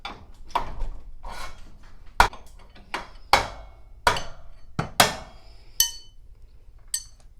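A garage door torsion spring is unwound along its rod in quarter turns, giving sharp metallic clinks and knocks at a steady pace, about one every second, with faint ringing after some strikes.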